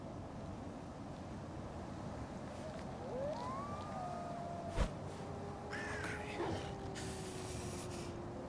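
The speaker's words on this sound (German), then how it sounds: "See that crow over there? Try to scare it away." A crow caws a few times in the snowy Winter Survival video game, faint and distant over a steady windy ambience, with a sharp click midway and a long sliding tone.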